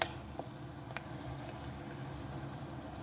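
Cumin, mustard seeds, dried chillies and onions fry in a pan with a steady, soft bubbling sizzle and a few small pops, heard alone at close range.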